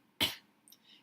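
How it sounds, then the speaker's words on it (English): A single short, sharp cough is heard close up in a quiet room, followed by faint soft sounds. "You have a cough."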